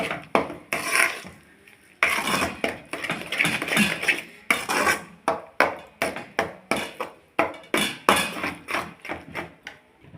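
A mixture of coconut milk and country sugar being stirred in a pan makes rhythmic, close scraping strokes that repeat at an even pace, with a denser burst of stirring early on.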